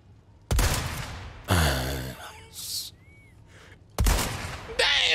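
Gunshots in Resident Evil 4, a few sharp loud blasts separated by pauses, with a short burst near the end, alongside breathy gasps and small in-game noises between shots.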